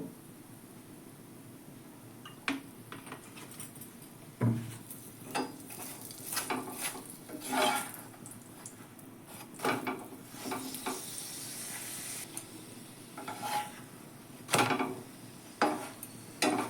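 Paratha made with drumstick leaves fries in oil in a pan, giving a quiet background sizzle broken by repeated clatters and scrapes of a spatula against the pan, with no talk.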